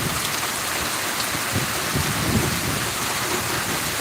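A heavy rain downpour hisses in a dense, loud, continuous wash, with low thunder rumbling softly underneath and no voices.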